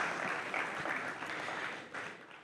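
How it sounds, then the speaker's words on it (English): Audience applause for Tony Lee at a secondary school graduation, a dense, fairly faint wash of clapping from a crowd that tapers off briefly before swelling again. "I think that we should give Tony Lee another round of applause"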